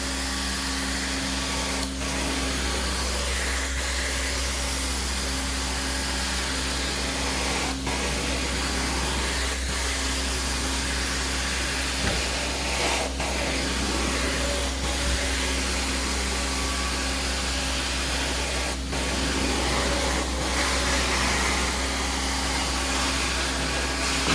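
A carpet cleaning extractor makes dry vacuum passes in an empty house, a loud, continuous motor roar with a steady hiss that barely changes over the whole stretch.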